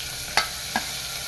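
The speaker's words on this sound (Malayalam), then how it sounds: "ഇനി ആ കുഞ്ഞുള്ളി നമ്മളെല്ലാം കൂടി ചതച്ച് വെച്ചേക്കുന്നതെല്ലാം കൂടി ഇട്ട്" Crushed shallots, curry leaves and spices sizzle in a hot pan with a steady frying hiss, broken by two quick scraping stirs from a spoon.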